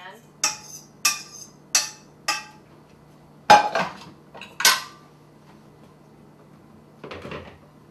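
Cooked butternut squash and its liquid are scraped from a pan into a blender, giving several sharp metallic clanks and taps of a utensil against the pan, then a pause and a softer final scrape.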